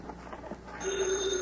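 A telephone rings in an old-time radio crime drama, a bright electric bell tone starting partway through and holding steady, preceded by quiet room ambience.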